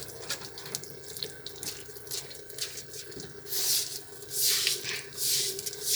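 Tap water runs into a sink during washing up at home, a steady hiss with splashing and clatter that swells louder toward the end, with no talking.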